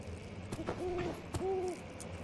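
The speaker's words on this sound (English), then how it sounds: "Owl." An owl hoots twice in a dark forest setting of the horror game Amnesia: The Dark Descent, two clear, drawn-out tones standing out faintly above quiet ambient noise and a few soft knocks.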